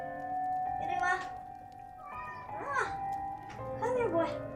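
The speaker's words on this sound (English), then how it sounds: "He's just meowing at the door." A cat meows at a door three times in a row, each call loud and close, over low room noise with faint background sound.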